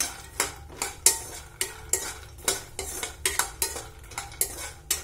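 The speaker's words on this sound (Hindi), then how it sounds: "थोड़ी देर ड्राई फ्रूट भूंजने हैं" Dry fruits are roasted in a pan, with a spoon repeatedly scraping and clattering against the metal in quick, irregular strokes over a faint sizzle.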